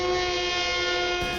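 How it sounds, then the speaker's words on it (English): Long Island Rail Road train horn, a steady multi-tone blare held loud and close for over a second before cutting off. "for those of you who have been fortunate enough to have never rode the LIRR, here's what it sounds like"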